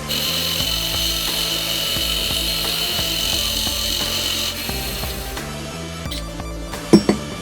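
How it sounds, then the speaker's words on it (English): A forged blacksmith's hot cut tool has an edge ground onto it: a steady, loud, rasping grind runs continuously for several seconds, then a couple of sharp knocks sound near the end. "all that's left with this tool is to grind a edge onto it, so then you can hot cut stuff"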